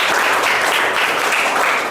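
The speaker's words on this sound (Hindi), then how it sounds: "अजय मुर्मू के लिए एक जोरदार ताली होना चाहिए।" Steady applause rings out for Ajay Murmu, a quiz participant answering arithmetic questions in a kids' maths quiz, continuous dense clapping from a group lasting the whole stretch.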